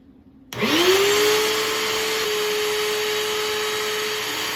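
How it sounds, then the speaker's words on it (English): A vacuum cleaner fitted with a small clear hose switches on and runs steadily while sucking sand and gravel out of the nooks of a 2017 Honda Africa Twin DCT motorcycle, a close, loud, constant whine after a quiet start. "it allows me to get into all the nooks and crannies and vacuum bits of sand and gravel and whatnot out of here."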